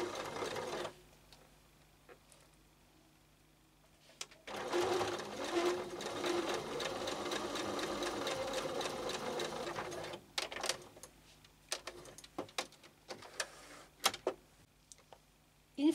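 A sewing machine stitches a denim apron waistband in one steady, close run of rapid mechanical chatter lasting several seconds, with quieter handling and short bursts of machine noise before and after.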